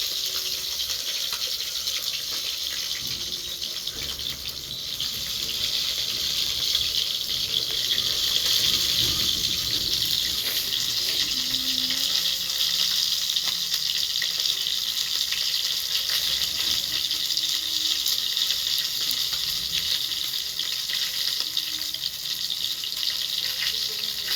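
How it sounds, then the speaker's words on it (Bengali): Fish frying slowly in oil on a small clay stove, a steady bright sizzle and crackle that continues evenly throughout, close and fairly loud, with no talking. "আস্তে আস্তে ভাজতে হয়।"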